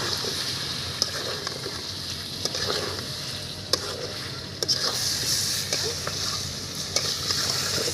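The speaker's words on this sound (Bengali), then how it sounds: "এখন সমস্ত মশলা আবারও একবার নেড়ে নিচ্ছি" Chicken pieces with salt, cumin and chili powder stirred in a hot frying pan, a steady close sizzle with scraping spoon clicks and taps scattered throughout, no voices.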